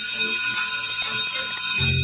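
Electronic alarm bell ringing as a sound effect, a continuous bright high-pitched ring held steadily for about two seconds before a low thumping beat starts underneath near the end.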